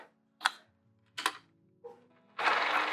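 A sewing machine stitches a zipper onto a small curvy fabric clutch. Short stitching bursts are separated by pauses and handling clicks, then a steadier run of stitching starts near the end. It is close and moderately loud, with no voice.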